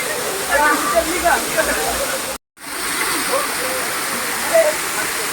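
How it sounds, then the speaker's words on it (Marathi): A waterfall rushes in a steady broadband wash, broken by a brief dropout, while faint voices murmur in the background. "वरतून पूर्ण वॉटरफॉल आहे प्रॉपर"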